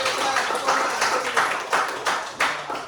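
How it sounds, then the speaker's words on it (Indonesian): A music class claps for a student, scattered hand claps coming in uneven bursts at moderate loudness against a noisy classroom background. "Tepuk tangan buat Edil"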